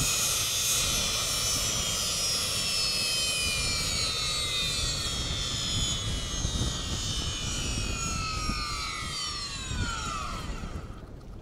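Fixed-wing aircraft landing at a small airfield on Preobrazheniya Island off Taimyr, with a loud, sustained engine roar and a whining pitch that slides steadily downward as it passes close by.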